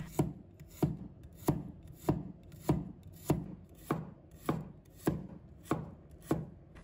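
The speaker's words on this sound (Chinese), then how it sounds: "再准备1把大蒜， 给它切成片" Knife slicing garlic cloves on a cutting board: about eleven crisp, evenly spaced strikes, roughly two per second, close and clear with no talking.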